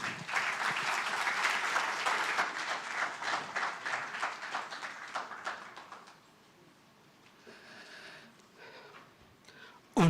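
Audience at a literary tribute event giving a round of applause, clapping lively for about six seconds and then fading out into quiet room noise and small shuffles.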